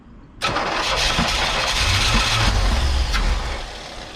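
Engine of a 1985 Chevy Corvette, parked for 20 years, catching after cranking and running rough on a few cylinders. The roar comes up suddenly and holds loud and close, then eases slightly at the end.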